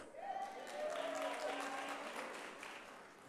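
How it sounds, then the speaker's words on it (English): An audience at a national convention applauds, a dense wash of clapping that swells and then tapers over a few seconds, with a voice speaking faintly beneath it. "I knew you would applaud that."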